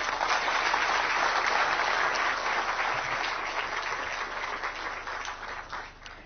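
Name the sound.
audience applause after a speech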